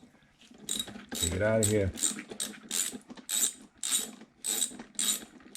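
Ratchet wrench clicks rapidly in repeated bursts while loosening the spark plug on a Honda EU2000i generator, close and crisp, with a brief low hum and a short spoken phrase near the start.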